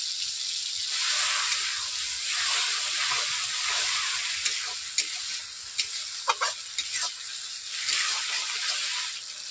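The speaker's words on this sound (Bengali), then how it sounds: "আমি তেলের মধ্যে টমেটোকে 3 মিনিট ভেজে নিয়েছি।" Chopped tomatoes fry in hot oil in a pan for tomato pickle, giving a steady bright sizzle and hiss, with a few stirring clicks and taps near the end.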